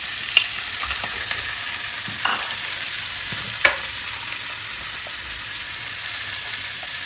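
Banana flower and potato fry with browned onions in a hot pan and are stirred: an even, continuous hiss of sizzling oil, close by, broken by a few sharp spoon clacks against the pan.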